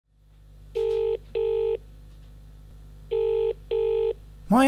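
Touch-tone telephone number being dialed, four distinct steady DTMF tone bursts in two pairs, close and clear over a low background hum, with a brief rising tone at the end.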